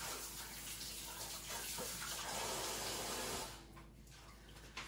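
Tap water runs steadily into a kitchen sink as hands are washed during baking prep, a close, continuous splashing rush that thins and quiets toward the end.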